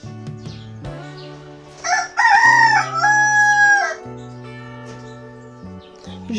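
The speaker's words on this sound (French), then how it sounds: "Moi qui croyais que le coq ne chantait que pour réveiller les gens" A rooster crows up close and loud, one full cock-a-doodle-doo in the middle, with music playing steadily underneath and a few softer clucks around it.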